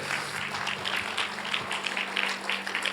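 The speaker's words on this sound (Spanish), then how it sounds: "denle fuerte el aplauso al Señor" Steady applause from a large church congregation fills the room, with faint rhythmic clapping and a low hum underneath.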